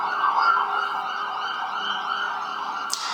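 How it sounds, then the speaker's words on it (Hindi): Emergency alert sirens wail continuously during an attack in Iran, a loud steady siren tone that holds throughout with a brief sharp noise near the end. "लगातार सायरन की आवाजें"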